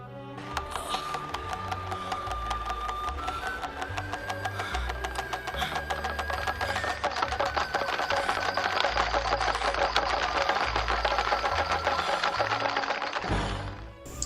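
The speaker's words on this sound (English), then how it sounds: "The Chinese/Okinawan rattle drum, known as the Den-Den Daiko, is the secret to all karate." A Chinese/Okinawan rattle drum, the Den-Den Daiko, is twirled, giving a rapid, dense stream of sharp clicks that runs steadily and close for over ten seconds before stopping.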